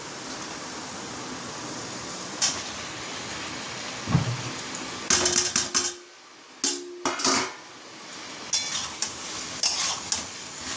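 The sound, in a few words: fried vegetables added and stirred into spice masala in pan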